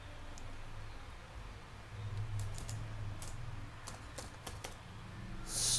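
Typing code on a computer keyboard, with scattered light key clicks in irregular bursts over a steady low hum and faint hiss; no talking.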